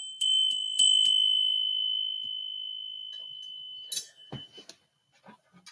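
A small bell rings clearly at the start of a tarot reading, three quick bright strikes followed by a long sustained ring that fades slowly, then a few soft taps and handling sounds.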